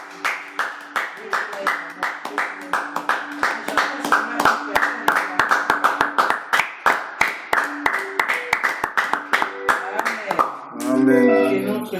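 Church congregation clapping in a steady, rhythmic beat, loud and close, sustained for about ten seconds while singing carries over it, ending with a brief spoken voice.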